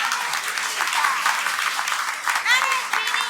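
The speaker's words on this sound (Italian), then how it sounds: "Un applauso." A crowd claps warmly at a memorial day gathering for Father Michele Todde, a lively, continuous applause with voices and cheers mingling through it.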